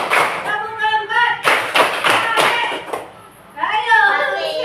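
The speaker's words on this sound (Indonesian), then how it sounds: "Ulangi ya, tepuk 1, tepuk 2, tepuk 3, tepuk 4." Classroom of children clapping along to a teacher's counted rhythm, sharp close claps landing in bursts between her spoken counting, with kids' voices mixed in.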